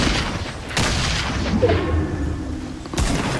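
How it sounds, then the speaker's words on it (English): A grenade launcher fires in a shooter video game, with loud booming blasts and thuds, one heavy hit near the start and another near the end over continuous rumbling battle noise. "Using his grenade launcher."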